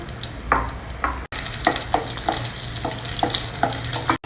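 Cashew nuts and raisins frying in hot ghee for a moong sprouts khichdi, a steady close sizzle with a low hum beneath and a few soft stirring scrapes, briefly cutting out once before resuming.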